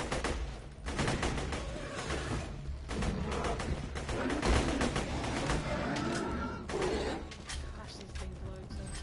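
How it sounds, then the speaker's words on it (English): Assault rifle gunfire in Borderlands 2, dense rapid bursts of shots and mechanical clatter running nearly continuously, loud and close, with brief gaps between volleys and game voices mixed in. "Assault rifle."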